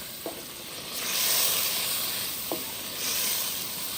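Tomatoes and green chillies sizzle steadily as they fry in a cooking pot, a broad hiss that swells and fades, with two brief metallic taps from a utensil.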